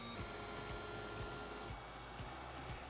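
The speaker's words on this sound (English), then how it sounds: "I started this project by 3D printing the measuring cube using a plastic called PLA." A 3D printer hums steadily while printing a PLA measuring cube, its stepper motors whining with small periodic clicks and shifts as the print head moves, close and even throughout.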